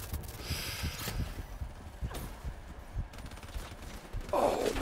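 A grenade blast in the Call of Duty Black Ops 3 campaign, set amid dense gunfire: a rolling, crackling burst of explosive noise with sharp reports scattered across the stretch, loud and close, ending in a brighter crunching surge.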